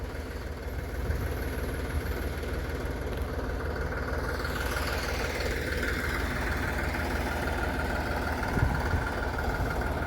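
A farm tractor idles with a continuous low, rumbling drone and faint vibration after ploughing the soil, steady throughout at moderate loudness with no voices.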